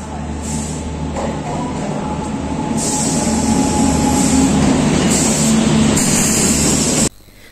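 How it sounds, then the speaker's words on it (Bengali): A train arrives at a station in the early morning hours, its heavy rumble and wheel noise building steadily louder for several seconds before cutting off abruptly. "তো ফাইনালি আমাদের ট্রেন এসেছে"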